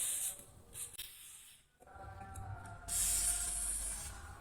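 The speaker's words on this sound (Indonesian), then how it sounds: "Oke, langsung aja kita semprot." Aerosol lubricant is sprayed onto the rotor of an electric motor in short hissing bursts, with a brief pause before a longer, louder spray near the end, close up and without talk.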